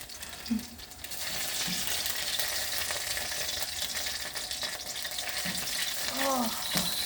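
Garlic frying and burning in a vegetable stir fry, a continuous hiss and sizzle from the pan, with a few brief faint voice-like sounds near the start and end.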